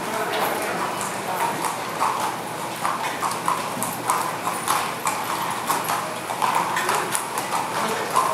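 Harness racehorses pulling sulkies walk out at a raceway for the post parade, their hooves clip-clopping in an irregular rhythm over steady crowd murmur and some talk.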